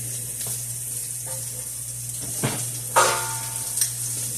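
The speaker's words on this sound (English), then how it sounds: "And everything is going into a hot skillet." Vegetables for a three-cheese meat lasagna sizzling in a hot skillet, a low steady hiss broken by a few louder clatters and scrapes of utensils near the end, no talk.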